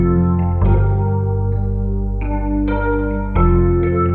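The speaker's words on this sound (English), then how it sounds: "it is the Duo Stage MIDI Rhodes. And then I've got this flanger, the flanger BL20 from Arturia on it." Rhodes electric piano lead, a Duo Stage MIDI Rhodes patch run through an Arturia BL20 flanger, playing a short sequence of sustained, swirling notes at steady loudness with no talk.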